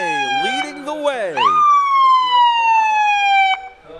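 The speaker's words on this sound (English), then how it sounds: "you'll hear those sirens and those chirps right now" A police car leading a Memorial Day parade in Saugus sounds its siren, with rapid warbling chirps giving way to a long, loud, falling wail that cuts off abruptly, close by.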